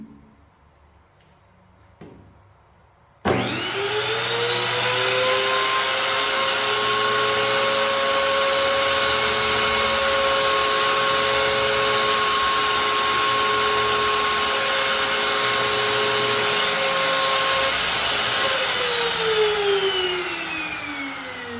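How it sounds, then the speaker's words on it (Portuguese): A CNC router (tupia) spins up with a sharp onset into a loud, steady high-pitched whine with tonal harmonics, holding constant for about fifteen seconds before winding down as it is switched off. "Vou ligar primeiro a tupia, para a gente ver o nível de ruído."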